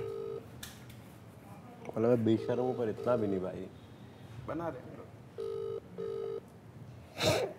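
A phone call rings out on loudspeaker with short repeated tonal rings between bursts of casual Hindi conversation among several people.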